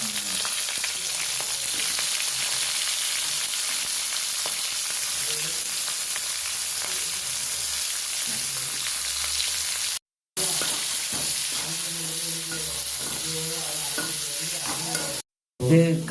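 Chillies, chopped onion and curry leaves sizzle and crackle steadily in hot oil while being stirred for chicken biryani, a loud continuous frying hiss with two brief cuts, no talk.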